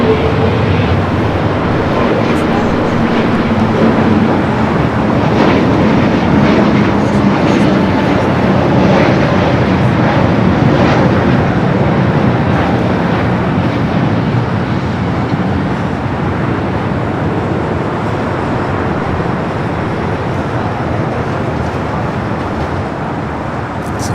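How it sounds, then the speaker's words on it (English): An Asiana Airbus A380 starts its takeoff roll on runway 24 left on the north side of LAX. Its jet engines give a steady, loud, broadband roar that holds for the whole stretch with little change. "Asiana A380 Super rolling down to 24 left here on the north side"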